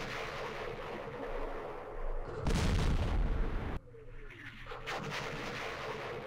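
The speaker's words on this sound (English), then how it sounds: "Oh, the artillery wiped out the VC." A booming artillery blast in the Vietnam war game Campaign Series Vietnam rolls out loud and broad for about a second, then cuts off sharply into quieter ambient game sound.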